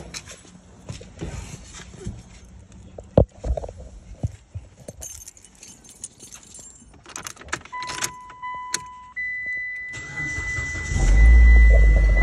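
Keys jangle and a car door clicks nearby, then a car engine cranks and catches, settling into a loud, close idle rumble for the last couple of seconds.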